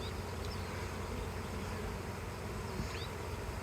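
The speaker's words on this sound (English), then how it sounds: "there's this huge swarm of bees all" A honey bee swarm buzzes continuously around the queen outdoors, a dense, steady drone of many bees close by with individual bees whining past now and then.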